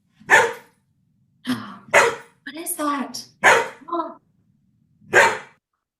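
A dog barks sharply several times in quick, separate bursts, loud and close, and a voice speaks briefly in between.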